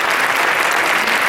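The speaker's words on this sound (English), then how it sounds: "Let's give them all a round of applause" An audience at a speaking event in Plainfield gives loud, sustained applause for dancers and scholarship recipients, a thick, even wash of clapping with no voices over it.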